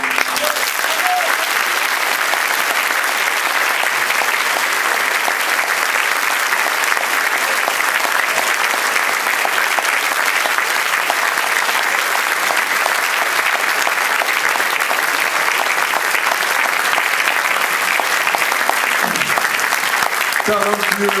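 An audience applauds after a live French chanson performance, dense sustained clapping throughout with crowd noise, continuing steadily for about twenty seconds without pause.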